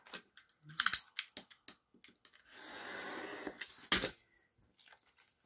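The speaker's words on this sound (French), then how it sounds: "Hop, je viens ici couper comme ceci." A craft cutter knife slices through paper in one steady scraping stroke lasting about a second, close and faint, with scattered small clicks and handling taps before and after.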